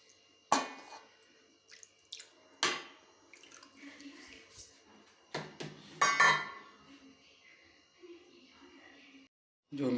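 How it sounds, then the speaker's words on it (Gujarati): Water is added in several short pours into a pot of rice in a village kitchen, producing separate splashing bursts with quiet gaps between them. "2 પાલા જેટલું પાણી એડ કરી દઈશું"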